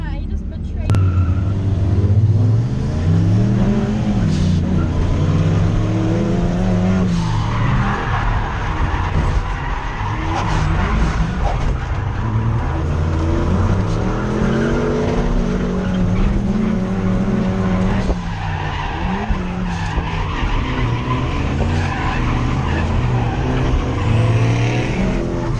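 A Mustang drifts at a drift event, its engine revving up and down in long sweeping pitches with tire squeal and skidding, loud and continuous throughout.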